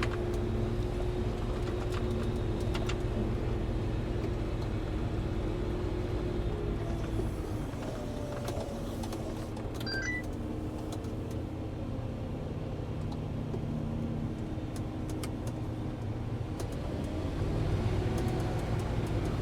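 A Claas Jaguar forage harvester drives through a maize harvest with a steady low engine drone and hum, heard from inside and holding constant for the whole stretch.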